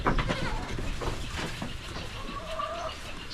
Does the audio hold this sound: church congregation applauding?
no